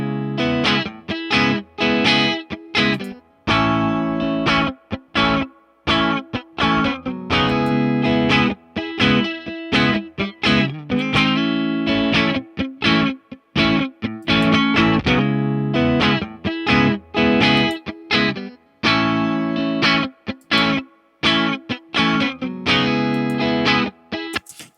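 Distorted electric guitar through the AmpliTube 5 amp simulator plays a steady stream of chords and riffs, processed and saturated, loud and continuous with brief gaps between phrases.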